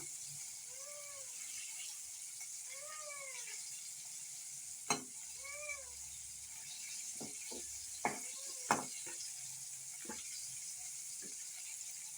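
Chicken pakoda frying in a pan, Malvani style: a faint, steady sizzle runs throughout, broken by a few sharp clinks and taps, with some brief chirping tones in the background.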